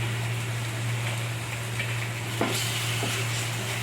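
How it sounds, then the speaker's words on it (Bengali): Tomato sauce sizzles steadily in a pan while cooking sweet corn chilli, a continuous close frying hiss with a couple of faint spoon scrapes and a low steady hum underneath, no talking. "এরপর আমি এর মধ্যে দিয়ে দিচ্ছি টমেটো সস 2 চামচের মতো,"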